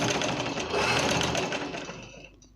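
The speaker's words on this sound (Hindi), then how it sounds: "आपने ये बुकरम के साथ साथ सिलाई लेके आनी है" Electric sewing machine stitching shirt fabric together with buckram, a loud, close, rapid mechanical whirring and clatter running continuously before tapering off at the end.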